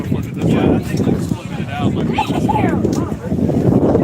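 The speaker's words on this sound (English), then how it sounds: "It is very windy out here." Strong gusts buffet the microphone at an outdoor vintage toy show with tents, a low rumbling roar that swells and eases beneath people talking nearby.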